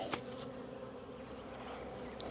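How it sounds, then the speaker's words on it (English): A swarm of honey bees gives a steady, close buzzing drone, unbroken for a couple of seconds, with a few louder individual bees passing near. "The bees that are swarming."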